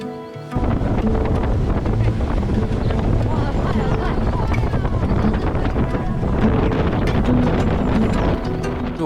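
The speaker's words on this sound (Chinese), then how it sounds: "是我第一次坐快艇" Speedboat ride across Ha Long Bay, Vietnam, with a loud, steady engine roar and heavy wind buffeting close to the microphone throughout, starting abruptly after a brief quiet moment; voices are faintly present.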